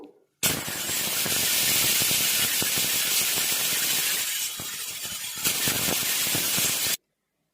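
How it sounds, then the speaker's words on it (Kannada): A pressure cooker on the stove, cooking a vegetable dish, vents steam in a loud, steady hiss for about six and a half seconds, dipping briefly midway, then cuts off abruptly. "ಮೂರು ವಿಸಿಲ್ ಬರಬೇಕು."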